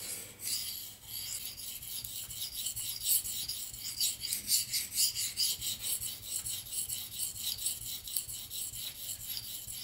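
A knife blade drawn back and forth across a sharpening stone, giving a soft, continuous rasping scrape in quick rhythmic strokes, close and fairly quiet with no talk.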